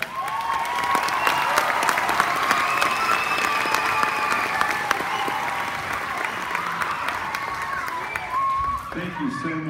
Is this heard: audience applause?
yes